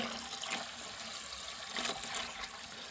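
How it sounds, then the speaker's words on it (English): Water runs steadily from an old household faucet fed by a well, a constant close rushing hiss with slight splashy fluctuations and no talk. "here's the water pressure of my old faucet"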